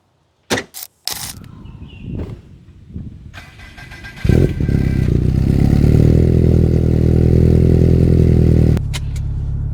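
A Subaru hatchback with a full body kit cranks and catches after some clatter and handling noises, then settles into a loud, steady engine idle up close before the level drops slightly near the end.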